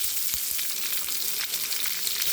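Chopped onions sautéing in hot oil with dried red chillies and crushed garlic, a steady close sizzle and crackle with occasional stirring scrapes, no voices.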